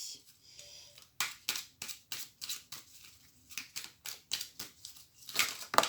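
A deck of oracle cards being cut and handled at close range, a run of quick sharp card slaps and snaps in an irregular rhythm, fairly soft, with no talking.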